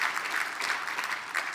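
Steady audience applause at a forum's opening remarks, a dense even patter of many hands clapping with no voices over it.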